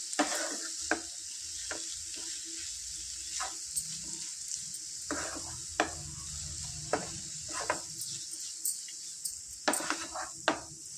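Chilli powder being stirred into tomato curry in a pan, with a steady low sizzle under repeated sharp scrapes and clinks of a spoon against the pan, close and fairly loud.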